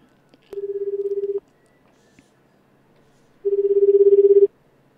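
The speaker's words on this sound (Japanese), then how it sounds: "押しまして、電話今かけております。" A telephone ringback tone sounds while a call is being placed, heard as two steady electronic rings a couple of seconds apart, clear and close, with a quiet pause between them.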